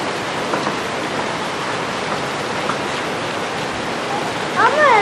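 Rain mixed with hail pours steadily onto a garden with tomato plants and flowers, a dense continuous hiss, and a voice breaks in briefly near the end.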